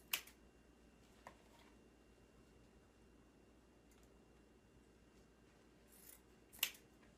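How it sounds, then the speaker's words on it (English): Scissors trim ribbon streamers on a spring Mother's Day wreath, a few faint, sharp snips spaced apart in an otherwise quiet room. "If you find any of the streamers that are too long, you could cut them."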